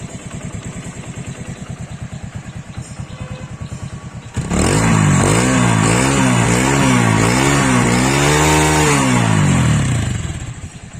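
A second-hand TVS Radeon 110cc motorcycle engine runs steadily at idle, then revs up loudly several times in rising and falling waves, close by, before easing back down.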